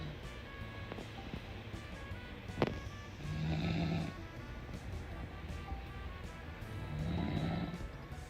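A mother and a small child snore in the morning: two slow, soft, rasping inhalations a few seconds apart, faint and close, over a quiet room hum.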